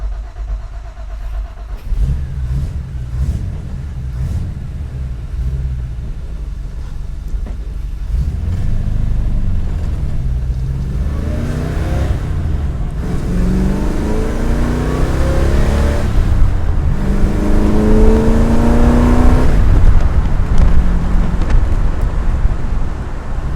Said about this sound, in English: today we're driving an AC Cobra Replica